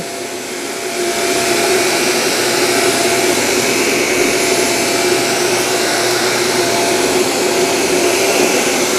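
A Shark Navigator Lift-Away vacuum cleaner runs on a short-pile area rug, its loud, steady motor whine rising within the first second and then holding constant and close throughout.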